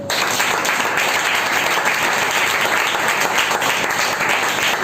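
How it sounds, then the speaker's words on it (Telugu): A church congregation claps together during a sermon, and the applause is loud, dense and continuous from start to finish with no clear voices over it. "ప్రజలో ఇప్పుడు చప్పట్లు కొట్టు."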